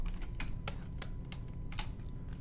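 Fingers type on a computer keyboard while editing character sticker lettering in Photoshop, tapping out a quick, uneven run of sharp, close keystrokes over a quiet background, with no voices.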